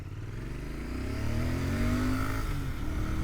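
A Royal Enfield Bear 650 twin-cylinder motorcycle is ridden along, its engine note rising and falling steadily beneath wind rush, fairly quiet and continuous with no talking.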